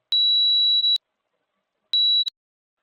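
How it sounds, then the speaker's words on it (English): Two electronic beeps from a mobile phone surveying app in stakeout mode, a long steady tone followed after a pause by a shorter one, clear and isolated against silence. "you get to hear the beep from the mobile"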